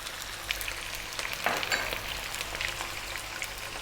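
Onion and garlic go into a pan for vegan cabbage and potatoes, sending up a soft, even sizzle with a few light stirring touches, heard alone at moderate volume.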